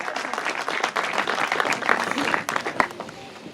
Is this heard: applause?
yes